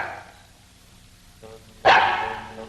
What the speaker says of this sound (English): Well, there's your dog anyhow.